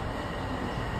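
Train passing close by at a station, a dense, steady rumble of wheels and carriage noise with a faint high whine above it, continuous and loud throughout.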